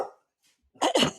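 A dog barking nearby, one short bark and then a quick double bark, fairly loud against quiet.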